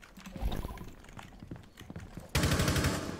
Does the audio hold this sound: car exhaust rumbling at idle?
no